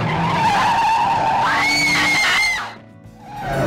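Car tires screech in a skid during a movie car chase, a loud sustained squeal with engine roar beneath that rises in pitch, then cuts off abruptly before the roar returns.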